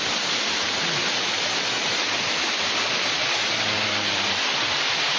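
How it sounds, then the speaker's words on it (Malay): A large waterfall roars as a loud, continuous, dense rush of falling water, steady and unbroken from start to finish with no voices. "air terjun. Ini besar."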